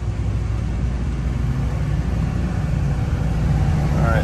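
A Duramax 6.6 LBZ diesel pickup truck running at half to wide open throttle, a loud constant low engine drone and road rumble heard from inside the cab, with no talk.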